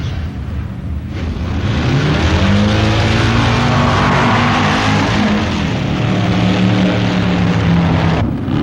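A drag racing car makes a run down the strip at the 1965 AHRA Winter Nationals, its engine a loud, sustained roar that swells and holds for several seconds with no voices.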